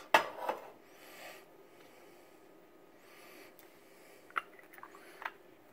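Turkish coffee being stirred in a pot at home gives faint scraping and clinking taps, a few soft knocks spread over quiet moments with no talk.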